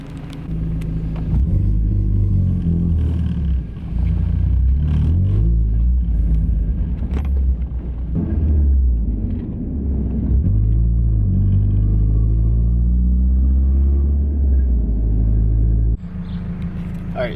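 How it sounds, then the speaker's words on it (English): A Mazda Miata drift car on a test drive after brake work: the engine rumbles and revs loudly and up close, with rising and falling pitch and short breaks between pulls, and no one talking. "I'm just gonna go ahead and take it on a test drive, see if it binds, if I have brakes"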